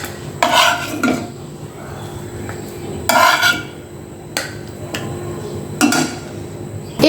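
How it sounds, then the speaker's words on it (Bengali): Fried pangas fish pieces lifted out of a frying pan with a metal utensil: three separate bursts of scraping and clinking spaced a few seconds apart, over a low, steady hiss of hot oil, with no talking. "প্রথমে মাছগুলোকে ভেজে নিয়েছি। এবার মাছগুলোকে তুলে নিব।"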